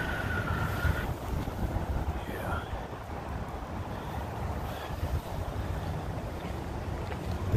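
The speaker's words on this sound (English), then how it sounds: "Look at that wind blowing tonight." Night wind blowing outdoors on a city street in Santa Rosa, a steady, loud rushing roar buffeting the microphone throughout with constant low rumble, with faint voices underneath.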